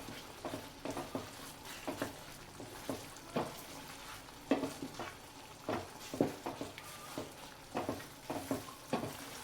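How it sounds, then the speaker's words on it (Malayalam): Flattened rice (poha) is stirred into a milk and banana mix with a spoon, giving soft, irregular wet scrapes and sloshes in a quiet kitchen, with no talking. "നന്നായി മിക്സ് ആവണവരൊന്ന് ഇളക്കാം കേട്ടോ."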